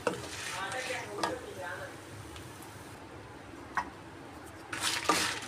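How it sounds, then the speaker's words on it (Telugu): Ingredients for a gongura (sorrel leaf) pickle frying in a pan over medium flame, giving a soft steady sizzle with a few scraping stirs and brief louder bursts near the end. "ఈ కలర్లో వచ్చే వరకు మనము బాగా వేగనివ్వాలి"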